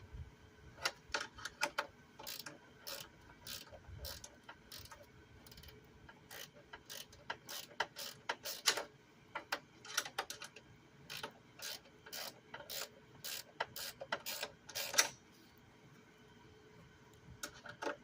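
A wrench ratcheting while a Craftsman Professional self-propelled lawn mower is taken apart, irregular bursts of quick metallic clicks with short pauses between them, close but fairly quiet against a low background.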